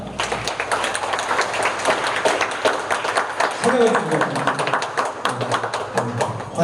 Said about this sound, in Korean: 우리 환영의 박수 하도록 하겠습니다